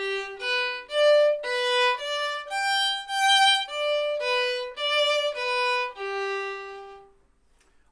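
Violin plays a Bach Minuet 2 arpeggio in continuous triplets without stops, a steady even run of bowed notes for about seven seconds before fading into a quiet room, with no speech.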